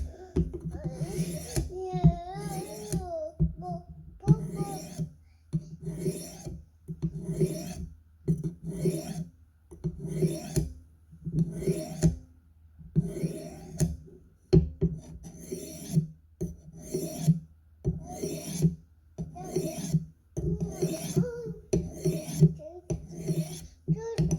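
A Buck 104 Compadre knife is sharpened on a Work Sharp field sharpener. Close, rhythmic rasping strokes repeat steadily at roughly one per second, with a brief voice now and then.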